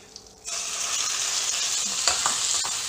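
Chicken pieces drop into oil and butter in an iron kadai, and after a brief quiet moment a loud, steady sizzle of frying fills the rest, close and free of talk.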